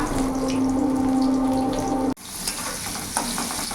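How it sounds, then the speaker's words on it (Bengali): Eggplant frying in oil gives a steady, close sizzle with a sustained tonal hum under it that cuts off abruptly, followed by quieter crackling and a few stirring clicks. "বেগুনটা আমি এবার লাল লাল করে ভেজে তুলে নেবো"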